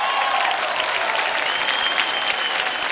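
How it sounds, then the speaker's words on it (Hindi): Dense, loud applause from an audience at the ITA Awards ceremony in India, a steady wash of many hands clapping that holds evenly for a few seconds. "एक बार जोरदार तालियां हो जाए"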